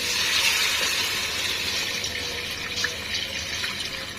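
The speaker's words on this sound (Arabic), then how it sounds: "خلاص هنزل لها بشويه شوربه كده." Broth poured into a cooking pot while making khobeiza, a steady close-up gush of liquid running evenly for a few seconds with no talking.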